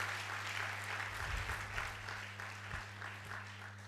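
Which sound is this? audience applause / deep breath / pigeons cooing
audience applause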